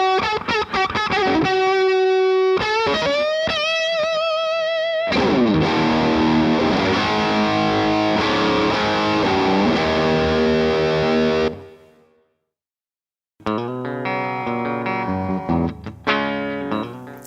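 An electric guitar plays through an Orange Guitar Butler pedal, loud and driven, with sustained chords and riffs that shift in tone and level as channels switch, then a brief silence before playing resumes.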